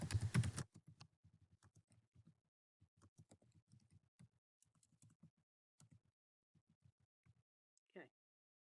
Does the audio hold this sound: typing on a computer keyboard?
yes